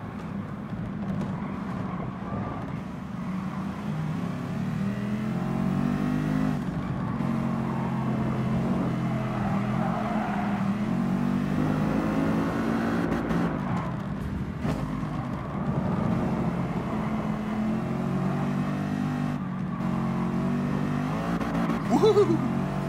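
A Vision Gran Turismo concept car in Gran Turismo Sport, its engine droning and revving steadily for the whole stretch, with someone talking over it.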